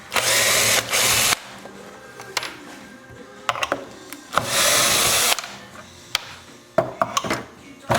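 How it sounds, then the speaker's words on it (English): A power drill backs screws out of a homemade flex sanding block, with two long whirring bursts near the start and another in the middle, broken by short clicks and handling noises, close and loud, with no talk. "Take out the screws on this side."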